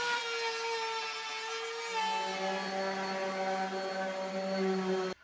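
A power sander runs on a scrap wood calendar frame, giving a steady high whine with tonal harmonics that holds for about five seconds and then cuts off.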